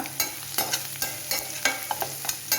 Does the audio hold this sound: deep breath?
no